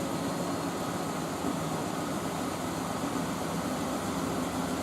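Miele W562 Prestige Plus washing machine straining to spin a load of towels, a steady, dense mechanical drone and whir that holds evenly throughout without building to full speed.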